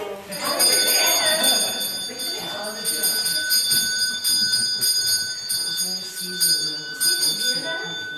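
A hand bell rings repeatedly in bright, jangling bursts, with voices and room chatter mixed underneath throughout.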